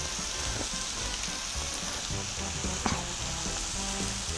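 Vegetables lightly fry in a pan, giving a continuous bright sizzle and crackle with small pops scattered through, close and steady, with no voices.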